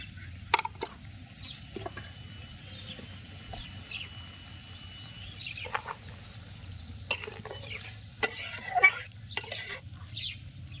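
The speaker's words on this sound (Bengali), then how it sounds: "মশলার মধ্যে ট্যাংরা মাছটি দিয়ে দিলাম" Tengra fish cooking in spice paste in a pan: quiet stirring and scraping with occasional clanks of a utensil against the pan and a faint sizzle, with sharper knocks near the end.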